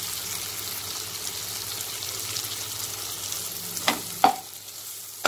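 Sautéed onions are stirred in a pan with biryani powder for an egg mushroom biryani, giving a steady soft sizzle with a few sharper scrapes of the spoon near the end.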